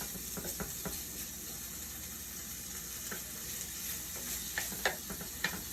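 Ham frying in a pan sizzles with a steady hiss close by, with occasional knocks and scrapes of stirring.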